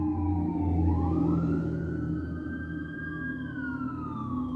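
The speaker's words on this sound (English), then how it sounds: "May God be with whoever those ambulances are going for." Ambulance sirens wail, sweeping up and down in pitch over a rumbling engine, fairly close and loud as the vehicles drive past.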